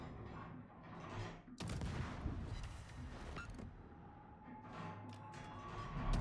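Naval gunfire in a World of Warships battle, with ships including the Gneisenau and North Carolina: a burst of heavy cannon blasts around the middle, then continuing rumbling gunfire, booming over a busy game soundscape.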